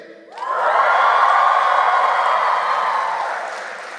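A large crowd at a welcome event cheers and screams together, the roar swelling suddenly and holding loud for several seconds before slowly fading.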